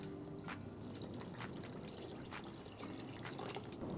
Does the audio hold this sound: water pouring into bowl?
yes